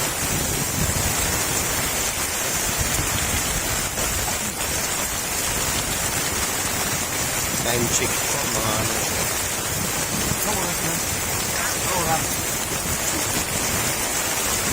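Heavy rain pours steadily beside a fishpond, a dense continuous hiss filling the whole span, with a voice speaking briefly partway through.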